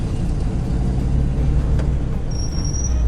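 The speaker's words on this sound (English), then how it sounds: "you can hear the brakes squeak for a little bit" A 1965 Ford F100 pickup with a thin high brake squeak rising near the end over a steady low rolling rumble of the truck and road.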